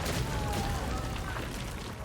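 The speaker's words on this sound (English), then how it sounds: "Go ahead and rain fire down from the sky." Fire rains down from the sky in Pathfinder: Wrath of the Righteous, a dense, rumbling barrage of booming impacts and crackling bursts that fills the clip at steady loudness.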